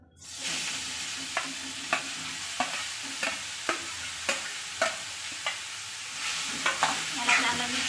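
Grated carrots fry in ghee in a wok for carrot halwa, giving a steady sizzle with a spoon scraping through roughly every half second, close and clear, with no talking.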